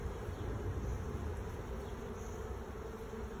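Honey bees buzz around an open hive while a beekeeper adjusts comb with a hive tool, a dense, steady droning hum filling the clip from start to end without any talk.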